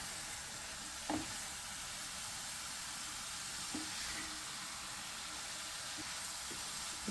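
Fish biryani gravy with fish pieces and chicken stock simmering over low heat, a steady faint bubbling hiss with a few soft pops and stirring knocks.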